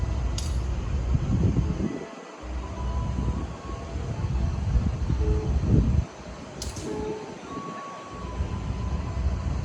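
A passenger train bound from Jember to Gambir runs straight through a curved station stretch past Leces, a steady rumbling roar of wheels and carriages with two brief sharp squeals, heard close and continuous.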